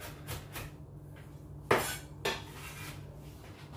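A knife chopping apple pieces on a board, two sharp, close knocks with faint clatter in a quiet kitchen.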